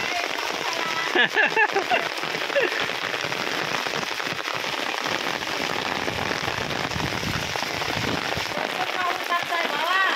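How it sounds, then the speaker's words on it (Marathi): Heavy rain pours down in a dense, continuous drumming on surfaces, with faint voices now and then beneath it. "हो आई पाऊस आला."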